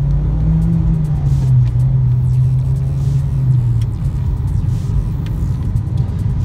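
A Mitsubishi Evo X car engine pulls hard under acceleration, its steady low drone rising slightly in pitch then settling, loud and close with a constant rumble throughout.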